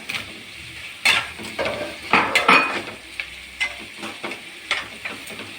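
Tomatoes sautéing in a pan for rava upma, a soft steady sizzle broken by several sharp scraping stirs of a utensil against the pan, close and without talk.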